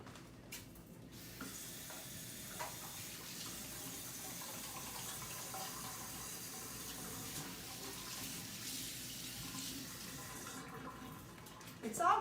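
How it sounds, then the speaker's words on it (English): Kitchen tap water runs steadily into a sink as hands are washed beneath it, a constant close hiss and splash lasting the whole stretch with a faint clink near the end. "the first thing we need to do is be sure to wash our hands."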